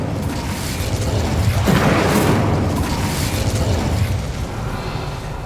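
An Incendio fire spell from Hogwarts Legacy erupts as a loud whooshing burst that swells to a rumbling peak midway, then fades into a sustained roar.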